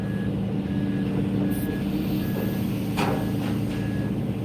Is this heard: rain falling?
no